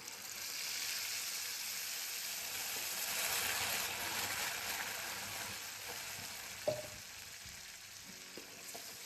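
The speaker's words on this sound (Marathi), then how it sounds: "आपण जी प्युरी केली होती ती यामध्ये घालून घेऊया" Tomato puree hits a pan of onions and cashews browned in oil, giving a soft, steady sizzle with faint stirring clinks near the end.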